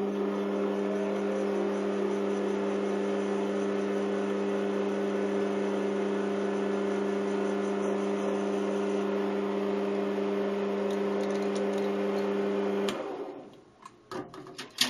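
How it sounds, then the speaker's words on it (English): A motor-driven rotary table cuts a chamfer on a graduated collar dial with a steady, droning whine rich in harmonics, running evenly for about thirteen seconds before winding down into a few clattering knocks. "Putting a chamfer."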